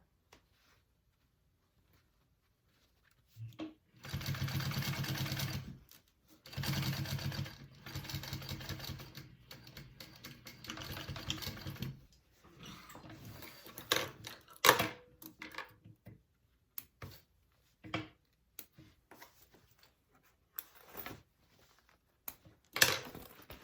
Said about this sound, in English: So I just sewed along the top from here to here.